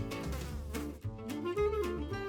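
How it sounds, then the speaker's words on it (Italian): A fly buzzing close by, a steady droning whine that wavers in pitch for about two seconds, heard alone without voices. "There is a fly on the food."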